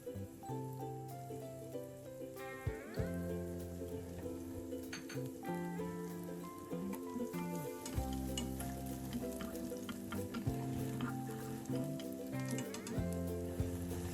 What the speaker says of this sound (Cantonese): 油熱之後咧，我哋先落蒜蓉